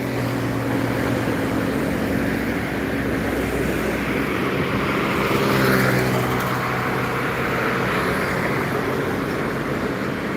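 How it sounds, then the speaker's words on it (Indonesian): Heavy trucks pass along a road in the early morning, a continuous loud engine and tyre roar with low rumble that swells and fades slightly as vehicles go by, no speech. "ada truk-truk aja yang banyak melintas."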